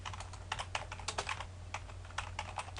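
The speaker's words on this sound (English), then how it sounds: "Let's type something here" Typing on a computer keyboard produces a steady run of close, crisp keystroke clicks with uneven rhythm over a low background hum.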